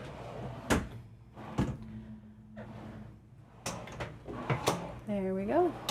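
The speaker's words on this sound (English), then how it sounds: "plenty more storage underneath the sink, as well as 3 soft close drawers" Several soft-close drawers under the sink in a 2023 Newmar Ventana 4369 motorhome shut one after another with dull knocks and brief sliding sounds, close by, with a few faint vocal sounds between them.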